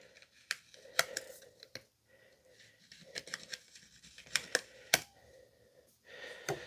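A small plastic card scrapes excess material off new rear brake pads for a Harley-Davidson Limited, making close, intermittent scratchy strokes and sharp clicks separated by short pauses.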